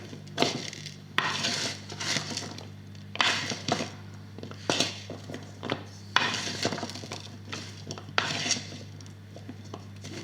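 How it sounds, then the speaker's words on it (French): Chopped chard being tossed and mixed in a bowl for lacto-fermentation, with repeated clinking and scraping strokes in a steady rhythm over a constant low hum, close and fairly quiet. "Je vais mélanger le tout pour que ça rende du jus."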